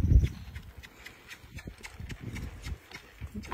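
A horse lopes in and pulls up to a stop, hooves clip-clopping in a quick rhythm of close, moderately loud beats, with a heavy thud at the start and steadier steps after.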